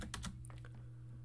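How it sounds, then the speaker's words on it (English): Keys clatter on a computer keyboard as a web address is typed, a quick cluster of sharp clicks early on followed by a few scattered lighter taps over a steady low hum. "type in https://dc1-esxi1.nsx.local."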